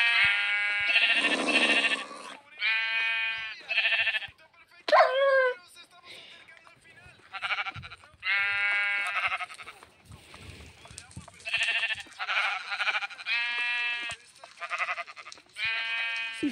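Sheep bleating in a video game, repeated loud bleats in short bursts of varying pitch scattered through the stretch with brief gaps between them, alongside other animal calls.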